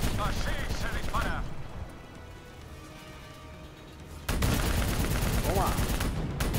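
Sustained automatic gunfire in the Call of Duty Black Ops 3 campaign, loud dense bursts at the start and end with a quieter stretch of distant rumble between, and a voice speaking briefly over the shooting.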